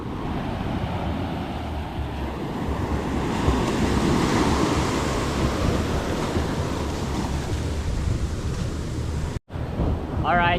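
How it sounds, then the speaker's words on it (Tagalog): Strong ocean current and crashing waves roar continuously and loudly at close range, with heavy wind buffeting the microphone and a brief dropout near the end. "Lakas ng agos. Lakas ng alon."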